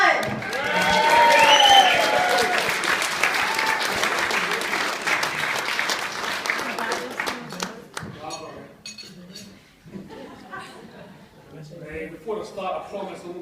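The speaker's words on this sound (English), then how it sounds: "Round of applause for your best man squad!" Wedding guests at a reception break into loud, dense applause with cheering and whoops, accompanied by clinking glasses and cutlery, swelling early then tapering into scattered claps and murmured voices.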